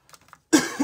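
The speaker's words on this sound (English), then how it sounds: "And I apologize for coughing." A person with a cold gives one short, harsh cough up close, preceded by a few faint soft sounds.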